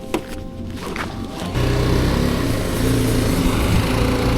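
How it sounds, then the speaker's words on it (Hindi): Royal Enfield-style 310 motorcycle engine revving and running steadily on a test ride, a loud continuous drone that swells after a brief start and stays close throughout, with no talk. "देखिए तो भाई अभी मैं जा रहा हूँ 310 चलाने।"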